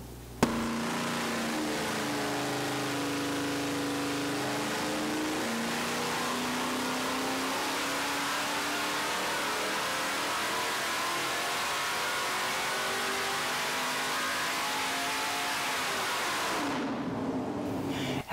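A stock 5.0-liter Ford 302 V8 runs on a test, revving continuously and loudly, its pitch climbing and dipping through sustained pulls before dropping away near the end.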